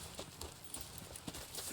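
Horse hooves clip-clopping in Red Dead Redemption 2, a soft, even run of hoof falls at moderate distance, faint and unhurried, with no voices over it.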